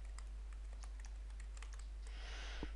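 Keys tapped on a computer keyboard while naming a file in GeoGebra, a quick irregular run of faint clicks over steady low hum, ending with a brief burst of soft hiss.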